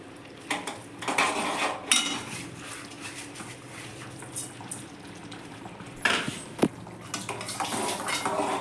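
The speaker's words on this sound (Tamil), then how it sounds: "இப்போ நம்ம வறுத்து வச்சுருக்கிற கோதுமை ரவை போட்டுக்கலாம்." Roasted wheat rava goes into a pot of boiling water for kitchadi, heard as close clatter and clinking of a pot and spoon with a soft watery stir, louder bursts near the start and end, no talk.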